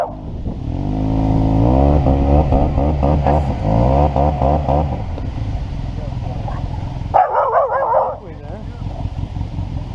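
Engines rev loudly nearby at an off-road Jeep event while a nervous dog barks a few times, with people talking over the noise.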